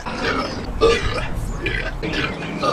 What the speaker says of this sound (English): Symphony of Burps